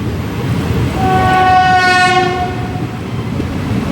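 The Narsapur to SMVT Bengaluru weekly express train on its first run rumbles steadily close by, with a long horn blast sounding over the rolling noise.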